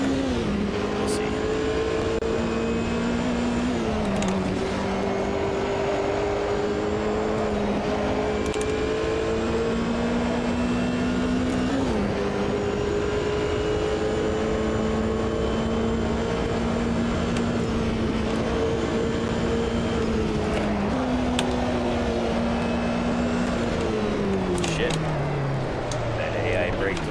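A racing car engine laps the 1971 Green Hell track, revving high with repeated gear shifts and drops in pitch as it brakes and accelerates; talk runs underneath.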